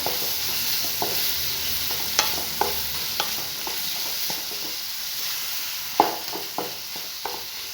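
A thick banana mixture is stirred in a pan over heat, with a soft sizzle under a steady run of scraping strokes and occasional sharper clicks of the spoon against the pan, close and fairly quiet, no voices.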